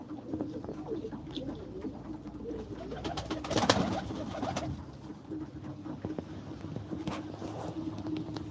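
Pigeons coo in soft, repeated murmurs outdoors. They sit over a steady background hum, with a few faint footsteps and distant traffic.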